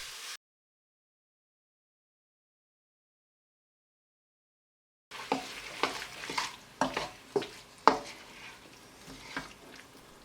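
Tofu stir fry with tamari being stirred in a pan over low to medium heat, a short silence giving way to a run of scraping, clattering stirs and a soft sizzle, close and moderately loud.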